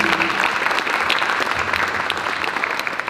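An audience claps loudly and steadily throughout, a dense, continuous round of applause at the EICAC 2024 opening event.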